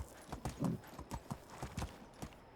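A donkey's hooves clip-clopping in Medieval Dynasty, a steady walking rhythm of soft, close hoof knocks, fairly quiet and alone without talk.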